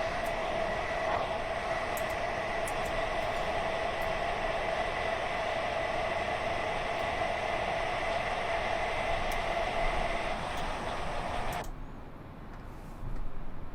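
In Train Simulator 2021, a Class 317 electric train's pantograph car gives off a loud, steady electrical whine and hiss, with faint ticks, that cuts off abruptly near the end, leaving quieter rumble.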